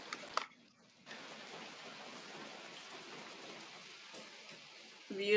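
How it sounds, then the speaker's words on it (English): Rain falls steadily outdoors near a deck, a soft continuous hiss of drops on surfaces at moderate distance, with a brief sharper patter near the start and a louder rustle at the end. "It's raining here."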